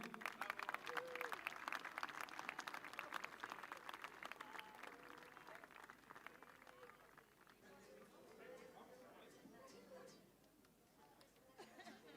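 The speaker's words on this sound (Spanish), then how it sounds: "Más fuerte ese aplauso para Jaime Riroroko" A festival crowd at Tāpati Rapa Nui applauds loudly in a dense, sustained wash of clapping with cheers and chatter mixed in, gradually thinning and fading over twelve seconds.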